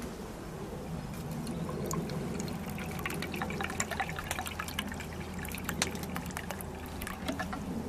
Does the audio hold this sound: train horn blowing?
no